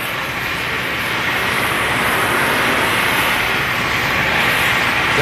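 Oxy-propane torch preheating a 1-inch-thick steel plate, a steady, loud, close roaring hiss that holds without a break throughout.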